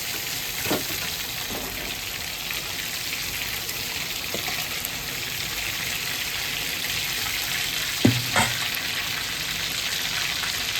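Deveined prawns sizzle steadily in hot oil in a pan, a constant crackling hiss broken by a few clinks and scrapes of a spatula stirring.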